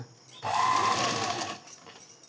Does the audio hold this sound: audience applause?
no